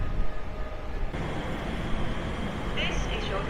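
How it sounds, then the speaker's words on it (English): A London Elizabeth line train pulls into an underground platform, a loud rumbling roar of wheels and motors building steadily with a brief high squeal near the end while a person talks over it. "Here comes the train."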